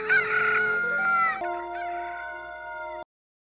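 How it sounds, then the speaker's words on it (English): A cartoon rooster crow sound effect, borrowed from the cuckoo call in Zelda, plays as a bright two-part electronic call with clear tonal steps, loud and alone, and then cuts off into silence. "The sound they use for the rooster cry in one of these episodes is literally the cuckoo sound from Zelda."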